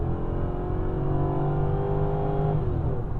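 A 2005 Mercedes E500 V8 engine, running after crank position sensor and air filter replacement, gets a bit of throttle while driving, a steady loud engine drone with rising tones that settles after a few seconds.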